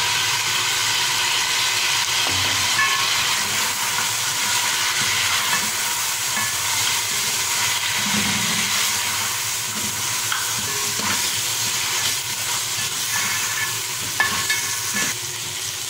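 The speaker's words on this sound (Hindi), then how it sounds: "प्याज डालकर इसे हल्का सा चलाया" Onions frying with goat trotters in a pan, a dense steady sizzle lasting throughout with repeated stirring scrapes, close and loud, nobody speaking.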